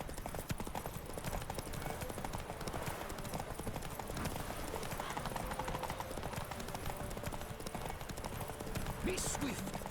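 Roach the horse gallops in The Witcher 3, a steady clip-clop of hooves running continuously under game music and ambience, with a voice talking over it.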